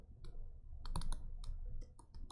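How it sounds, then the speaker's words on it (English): A marker writing on a board, a short run of dry squeaky strokes and taps in a quiet room. "Let me write that."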